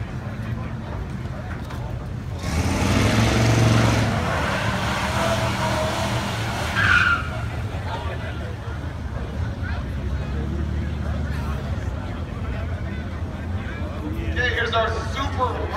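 Hooptie drag race cars at a $3000 budget event, one with a supercharged V6, heard as a rising engine roar that passes and fades into a steady background drone, with crowd chatter and talk throughout.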